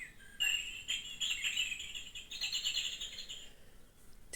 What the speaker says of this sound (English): it's my bird song going here.